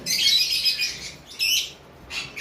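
Hyper pineapple cockatiels in a cage give bright, shrill chirps, a long call followed by two shorter bursts, close and clear with no talking.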